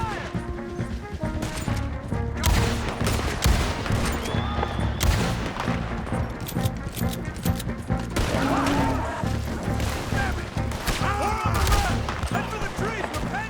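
Red Dead Redemption 2 shootout with repeated rifle and pistol shots, impacts and crashes throughout, loud and busy, with shouting voices mixed in.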